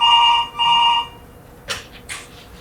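A telephone rings in a stage play: two steady electronic rings in quick succession, followed by a moment of quiet and a few faint rustles.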